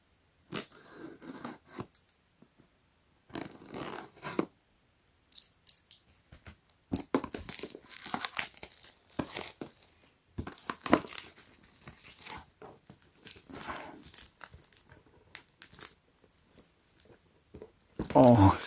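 Packaging for a dual front-and-cabin OLED touch-screen dash cam being unwrapped, with intermittent close crinkling, tearing and rustling bursts separated by short quiet gaps, faint and irregular.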